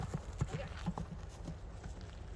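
A horse's hooves clip-clop in a few uneven, close steps, faint and low, with people talking nearby.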